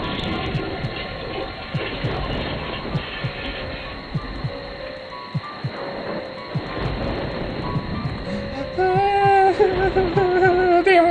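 A toilet flushes in the Thai horror video game The House, a long, loud rush of water that runs steadily until eerie wavering tones rise over it near the end.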